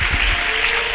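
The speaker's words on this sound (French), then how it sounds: "Acclamez très fort pour le Seigneur." Church congregation clapping loudly for the Lord, a brief, dense burst of close applause with a slight vocal cheer at the start.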